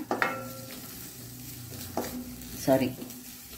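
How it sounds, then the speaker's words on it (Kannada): Cashews and raisins frying in ghee in a pan for carrot kheer, a soft low sizzle with occasional stirring scrapes and a clink of a utensil near the end. "ಹೀಗೆ ಎಲ್ಲವನ್ನು ನಾವೀಗ ಇದರಲ್ಲಿ ಒಳ್ಳೆ ಫ್ರೈ ಮಾಡ್ಕೊಳ್ಳೋಣ"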